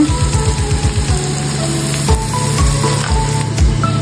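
Chopped tomato and green chilli sizzling and frying in a pan while cooking egg biryani, with a loud close crackle and a run of rhythmic stirring scrapes, then steady sizzling broken by occasional clanks of the spoon.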